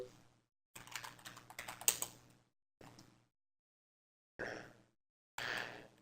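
Quiet clicks of typing on a computer keyboard in short bursts separated by silent pauses, close and crisp with no voice.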